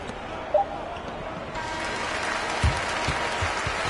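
A home crowd roars with steady applause and cheering after a victory in the basketball video game NBA 2K23, a broad continuous wash of noise that swells slightly partway through.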